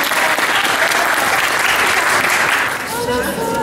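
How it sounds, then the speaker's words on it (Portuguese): A live audience at a community event in São Lourenço do Sul bursts into sustained, loud applause and crowd noise for a participant, with voices mixed in, easing slightly near the end. "Eu quero um aplauso pro Charles também"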